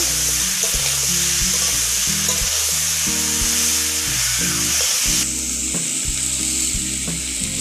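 Ginger and cumin paste is stirred into pumpkin greens frying in a pan, with loud, close, continuous sizzling under repeated rhythmic scraping of a metal spatula that rings with tonal squeaks.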